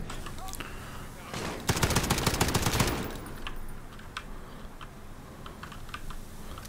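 A dense, fast burst of automatic gunfire in Call of Duty: Modern Warfare (2019) lasts about a second, then fades into scattered clicks and game ambience while someone speaks.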